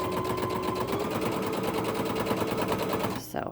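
Sewing machine back stitching a minky baby blanket, one continuous close whirring run that stops abruptly near the end.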